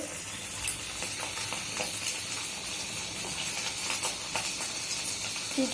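Foli fish frying in a pan for fish kebab gives a steady, moderately loud sizzle and hiss with faint stirring clicks and scrapes throughout, with no talking.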